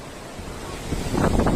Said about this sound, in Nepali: चितवनमा हावाहुरी यस्तो आएको